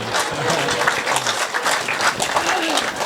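An audience at a live comedic Hindi poetry recital breaks into loud, sustained applause, a dense, steady wash of clapping throughout.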